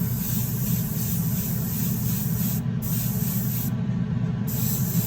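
A light first coat of primer from a spray gun, probably fed by an air compressor, hisses steadily and loudly with a low mechanical hum underneath, pausing briefly twice near the end.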